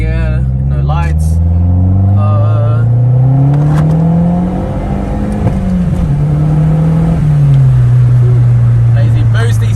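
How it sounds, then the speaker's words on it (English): Mazdaspeed3 (Mazda3 MPS) accelerating hard in second gear, its turbocharged engine droning loudly and climbing steadily in pitch before easing off, heard from inside the car with people talking over it. "We're gonna blat this MPS one more time. Let's go. Boom, boom. Let's go. Second gear, no lights."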